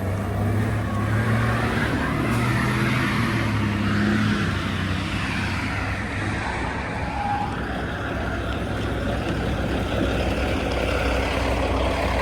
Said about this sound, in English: I feel bad for that poor yard jockey's motor.